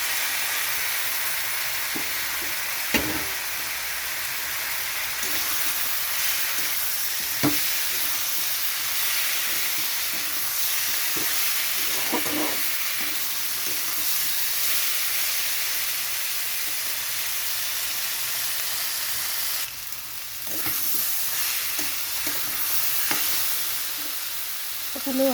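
Mutton fat fries with tomato and green chili in a pan, a steady broad sizzle and hiss throughout with occasional soft stirring clinks and scrapes.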